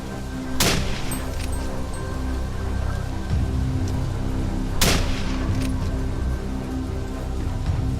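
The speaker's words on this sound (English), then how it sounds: "3 loud gunshots rang out, ending the prey's escape once and for all." Two sharp, loud gunshots during a wild boar hunt cut through a steady background hiss, one near the start and another about four seconds later.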